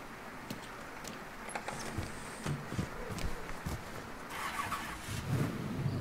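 A car engine idles steadily at low volume in the video game Mafia 3, with faint footstep-like thuds and soft clatter rising over the rumble.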